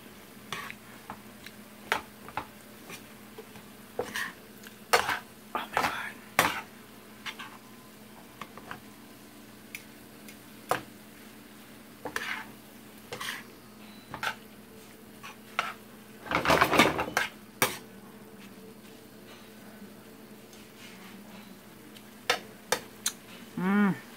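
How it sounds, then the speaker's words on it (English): Food with a splash of soy sauce being stirred in a pan, scattered scrapes and taps of a utensil against metal over a faint sizzle, with a busier cluster of clatter midway, close with no talking. "Then we're gonna stir it."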